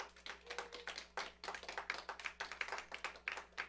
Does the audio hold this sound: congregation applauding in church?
yes